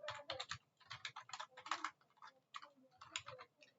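Soft clicking keystrokes on a computer keyboard, a quick run of taps in short bursts with brief pauses between, close and quiet, no voice.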